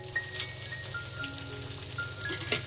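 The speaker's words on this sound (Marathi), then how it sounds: "आपण अशा प्रकारे सर्व भेंडी या तव्यामध्ये सर्व लावलेली आहेत त्याच्या बाजूने आपण तेल सोडूया" Stuffed okra fries in oil on a flat griddle, giving a soft, continuous fizzing sizzle like light rain, with faint tonal music in the background.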